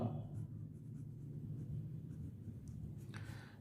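Writing on a board while working a mirror formula, heard as a soft, continuous scratchy stroking over a few seconds. It is quiet and close, with a brief sharper scrape near the end and no talking.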